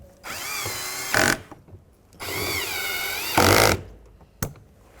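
A power tool driving screws into an Acura MDX front door panel during a window motor and regulator replacement, whirring in two close bursts that each end in a louder tightening growl, followed by a short click.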